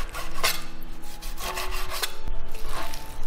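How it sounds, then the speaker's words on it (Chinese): A knife cuts washed pork shoulder, fatty and lean, into small pieces on a board, giving a steady run of close rubbing, scraping strokes with a few sharper chops. "把它切成小块，"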